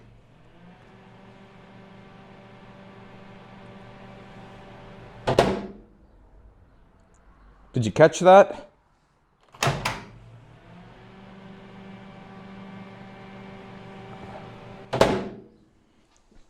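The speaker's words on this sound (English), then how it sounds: "The microwave is turning on when I open the door." A GE microwave oven with a fault that makes it turn on when the door opens: a steady electrical hum with harmonic tones starts, broken by a few sharp thunks and a brief rattling clatter, then the hum resumes before a final thunk.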